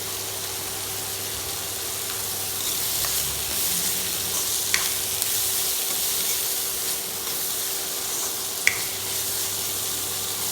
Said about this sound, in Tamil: இப்போ நாங்கள் வெங்காயத்தை போட்டு வெங்காயம் நல்லா வதங்கணும்